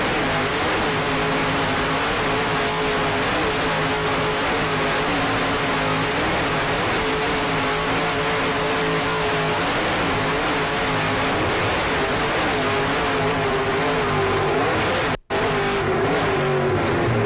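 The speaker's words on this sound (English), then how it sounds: "Powered by two 950 horsepower Sterling inboard Mercury droppers." Racing powerboat with two 950 hp Sterling inboard engines at the Key West World Championships, a loud sustained engine roar with shifting pitch throughout, briefly cutting out near the end.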